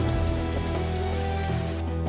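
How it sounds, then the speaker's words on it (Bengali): Steady rain patters on a surface with a dense, even hiss, joined by a low continuous hum throughout. "কিছুদিন পর আবার বৃষ্টি শুরু হতে থাকে"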